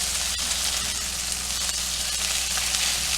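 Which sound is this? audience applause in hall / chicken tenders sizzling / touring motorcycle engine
chicken tenders sizzling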